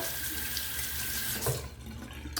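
A Fine Marvel safety razor with a Feather double-edge blade is rinsed under a running tap, a steady close splash and hiss of water that shifts briefly as the razor moves through the stream, then quietens.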